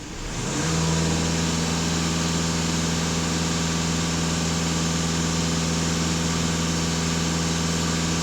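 A VW Passat B8 engine idles close by with a steady, even hum that settles in after a brief rise at the start.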